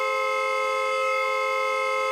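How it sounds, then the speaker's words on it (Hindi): A car horn blares in one steady, unbroken tone for the whole stretch, loud and continuous with no pauses, as in a tense street scene from a crime drama. "कौन है ये नॉन स्टॉप हॉर्न बजा रहा है?"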